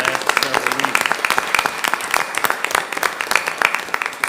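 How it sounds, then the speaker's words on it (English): Applause at a board of trustees meeting, a steady round of clapping from the room lasting several seconds, fairly close and even in density, with some voices mixed in. "I'd like to give a round of applause to Dr. Sass"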